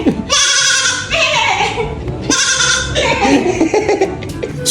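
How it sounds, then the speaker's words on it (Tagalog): A goat received as a gift bleats loudly and close by, giving several wavering cries in quick succession with brief gaps between them. "Kambing yung niregalo."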